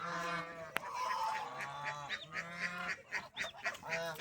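Domestic ducks or geese honk repeatedly at close range, with overlapping nasal calls in an irregular, chattering rhythm.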